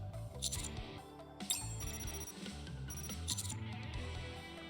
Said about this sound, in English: My phone abruptly starts ringing, startling me